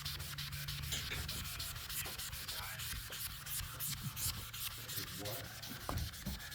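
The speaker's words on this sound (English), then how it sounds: "And hit it with the magic eraser." Close, steady scrubbing of a magic eraser worked over a Bayliner Capri 185 boat surface with cleaner, a dense rasping rub that keeps going with small bursts and no voices.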